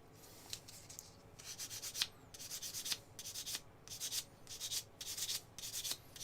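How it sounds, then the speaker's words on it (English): Plastic sprue nubs on parts from a Baneblade tank model kit being rubbed off by hand, giving repeated bursts of dry scratchy friction in a steady back-and-forth rhythm, close and moderately loud with no talking. "Rub the nubs off."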